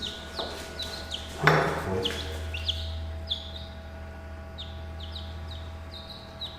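Chickens on a farm in Portugal chirp in short, repeated calls amid an outdoor hum, with a louder burst of clucking or squawking near the middle.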